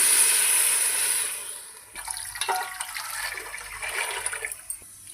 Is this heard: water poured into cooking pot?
yes